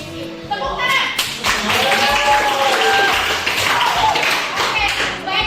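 Children in a classroom clap together in a steady, sustained round of applause, loud and close, with voices mixed in.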